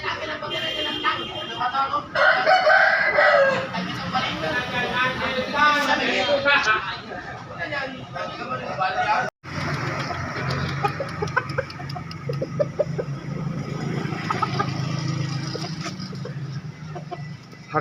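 Chickens and a rooster at a busy chicken market on Jalan Bhayangkara in Makassar, with clucking and crowing mixed into crowd noise, while people talk and bargain throughout near the microphone.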